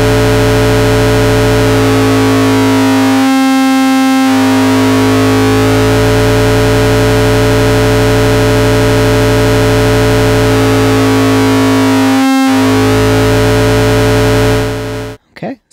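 A sustained, buzzy electronic tone from a Eurorack modular synth, a sine wave through a VCA into an FM input, with rich harmonics, droning steadily for about fifteen seconds with brief dips and a sudden cutoff at the end.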